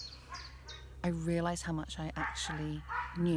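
An excited dog barks in the woods, a run of sharp, fairly close barks that follow one another quickly over a person talking.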